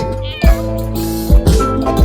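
A cat meows several times in quick succession, close and clear, over a sustained tonal musical background.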